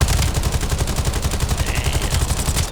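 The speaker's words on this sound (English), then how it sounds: "I'm gonna shoot this down here" Rapid automatic gunfire from a weapon in Black Ops 7, a loud, close, unbroken stream of evenly spaced shots that keeps a fast rhythm throughout.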